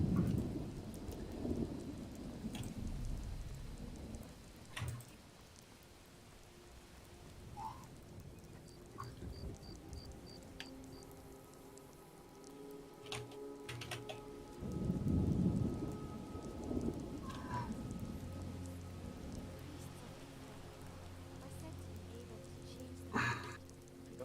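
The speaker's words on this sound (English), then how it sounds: "Don't you just love a bit of rain?" Rain falls with thunder rumbling in low rolls, steady patter punctuated by a few louder rumbles and distant thuds, moderately faint.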